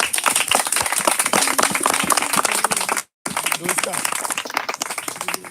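A church congregation claps in rhythm in praise of Jesus during a prayer service, dense and loud throughout with one brief break, while people shout and talk over the clapping.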